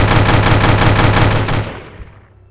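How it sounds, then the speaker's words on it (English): Sound-effect series of explosions at night, a loud rapid burst of cracking blasts in quick succession that stops suddenly and leaves a short rumbling decay. "Suddenly, a shattering series of explosions tear the night apart"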